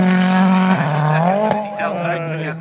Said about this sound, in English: Over the junction goes car number three, Mikko Hirvonen it is